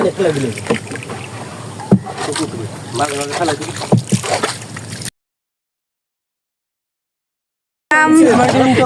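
A boat moving across a haor wetland near Sunamganj, with steady wind and water rush throughout, broken by a short dropout partway, and people talking over it.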